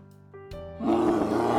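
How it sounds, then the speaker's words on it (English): A bear gives a short, deep roar that starts as a low grunt and swells louder and rougher. It lasts under two seconds and is heard alone. "bear,"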